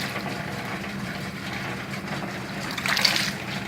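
A Zenith wringer washer turns its rollers to squeeze a towel, giving a steady, soft mechanical whir mixed with a watery wash that swells briefly near the end.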